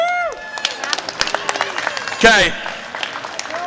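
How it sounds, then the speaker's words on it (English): Scattered audience clapping for two competing teams at an agricultural discussion contest, uneven individual claps with a short burst of cheering and voices talking over it. "let's give a round of applause for our 2 teams."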